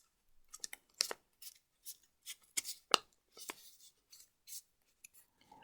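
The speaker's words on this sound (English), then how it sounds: "So it's from the side and then folding it into the middle." Origami paper being folded in toward the middle for a traditional lily, with a string of soft, close crinkles and sharp creasing snaps, the biggest few near the middle, separated by short silences and with no talk.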